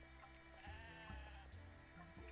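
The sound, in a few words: sheep bleating in a video game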